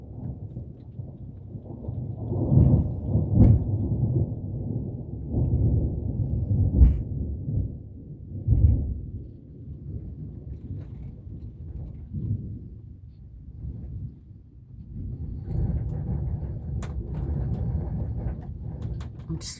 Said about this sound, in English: Oops, lightning again. More thunder.